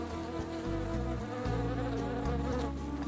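Honey bees buzz on flowers and plants, a dense steady drone of many insects close by, continuous and loud with shifting pitch, no voices.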